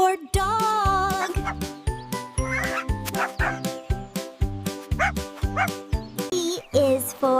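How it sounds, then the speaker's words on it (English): A dog barks in a rapid series of short yips and bow-wows, loud and close, the barks repeating in an uneven rhythm for several seconds. "D is for dog."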